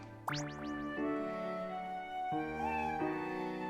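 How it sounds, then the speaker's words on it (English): A black cat meows in Professor Layton vs Phoenix Wright, two drawn-out, close meows over a steady musical backdrop. "So, Isabella has a pet cat."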